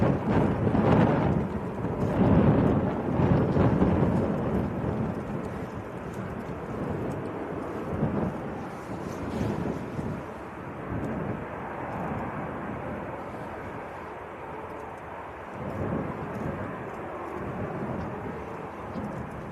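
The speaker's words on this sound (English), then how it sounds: "Next to go though is Ryanair to Lanzarote." Ryanair jet departing Manchester Airport for Lanzarote, a low rumbling engine roar, loudest early and then fading steadily into the distance.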